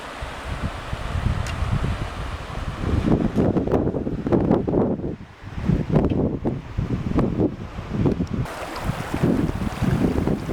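A Sierra Nevada mountain creek runs high and muddy with snowmelt runoff, giving a loud, continuous broadband rush that is roughened by gusty wind noise on the microphone, with no talking.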